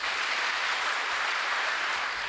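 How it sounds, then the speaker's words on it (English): Audience applause for school quiz contestants at a regional science and maths competition, a steady even wash of clapping lasting throughout, moderately loud with no voices over it. "A round of applause for our contestants."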